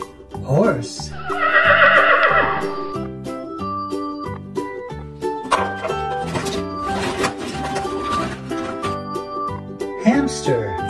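A toy horse plays a neighing whinny sound, bright and loud, followed by tinkling musical tones from the farm toy, with no talking over it.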